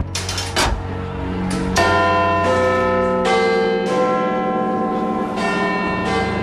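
A church bell tolls repeatedly at a slow, steady pace, each loud strike ringing out with a long shimmering hum that overlaps the next, striking twelve.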